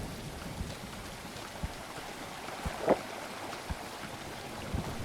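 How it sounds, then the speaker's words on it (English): Rain falls in the survival building game Tribe: Primitive Builder, a steady soft hiss with occasional louder drop taps scattered throughout and no other sounds. "Awesome rain."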